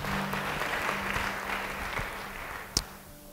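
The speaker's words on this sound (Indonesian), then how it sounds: "Yang setuju beri tepuk tangan bagi dia." A church congregation claps during a sermon, a fairly quiet, even spread of applause from many people, with a low hum and a sharp knock near the end.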